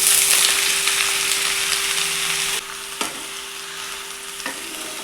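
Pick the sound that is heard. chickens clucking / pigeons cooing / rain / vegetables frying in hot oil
vegetables frying in hot oil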